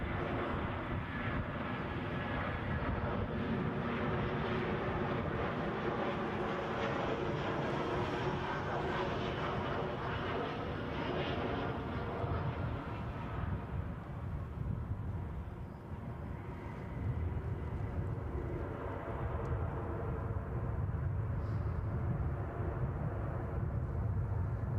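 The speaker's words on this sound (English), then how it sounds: "We've got the inbound easyJet from Milan to bring you." An inbound easyJet airliner arriving from Milan at Edinburgh airport, a loud, steady broadband jet roar that holds for the whole stretch and eases slightly in its later part, with no talk over it.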